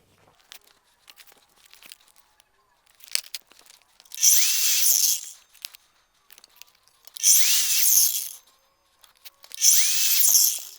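Irrigation pipes cut to length for a manifold: three loud, rasping cutting bursts of about a second each. Between them come quiet clicks and handling noises, all close by.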